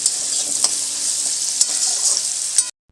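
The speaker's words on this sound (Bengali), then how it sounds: "একটু বেশ ব্রাউন করেই ভাজবো এটা আমি" Potatoes fry in a pan, a steady, close hiss of oil with a few stirring clicks before the sound cuts off briefly near the end.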